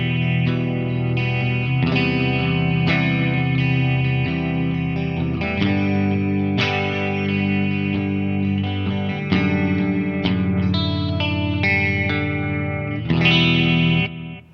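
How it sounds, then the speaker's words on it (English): Electric guitar chords and melodic lines ring out continuously through EQ, compression, chorus and a modulated analog-style delay, giving a swirling, wide, echoing tone that plays steadily throughout before ending abruptly. "the Echo system is also doing a modulated, like Deluxe Memory Man sort of delay"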